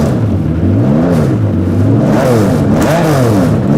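A light, overpowered small car's engine revving hard, a loud rising and falling motor note sweeping up and down several times with no voices over it.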